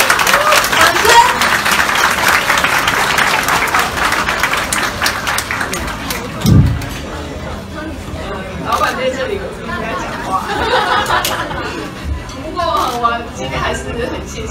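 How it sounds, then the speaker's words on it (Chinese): An audience applauds at a hotel fan banquet for Taipei mayor Ko Wen-je in Kaohsiung. Loud, dense clapping opens the scene and then fades into crowd chatter while people talk. "掌声。"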